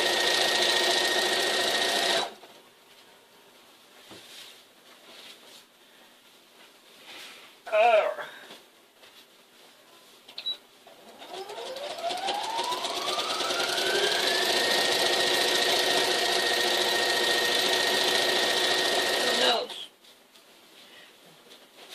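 A sewing machine runs in bursts while stitching in the ditch during free-motion quilting, a steady whirring hum that speeds up and holds for several seconds, with a short mechanical clatter between runs and no talking over it.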